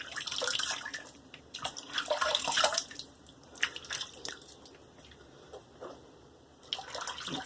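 Tap water runs and splashes in a sink while two safety razors, a Merkur Futur and a Q-Shave, are rinsed, with bursts of spray and dripping rising and falling, close by.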